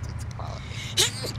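A single short sneeze bursts out near the end, loud and close, with casual talk and background hum around it.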